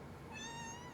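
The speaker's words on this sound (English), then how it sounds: "Kitten has arrived." Kitten giving a single faint, rising meow over a steady hiss of background noise, brief and distant.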